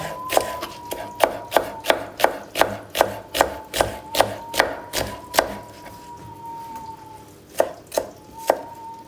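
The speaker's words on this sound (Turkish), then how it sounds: "Soğanımız kavrulurken domatesimizi doğrarız arkadaşlar." A knife chops tomatoes on a cutting board in a home kitchen with a steady rhythm of close, crisp thuds, about a dozen and a half strokes with a short pause near the end. A faint steady tone runs underneath.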